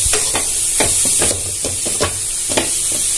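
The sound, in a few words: sautéing carrot, greens and egg stir-fry in a pan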